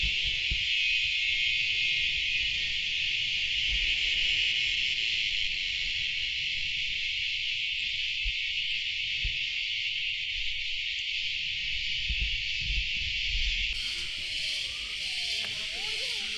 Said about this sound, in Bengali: সাথে ঝিঝি পোকার আওয়াজ, খুব ভালো লাগছে।